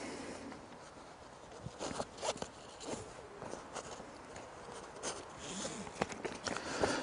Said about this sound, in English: The zippers on the bottom pocket is quite good. They run smoothly,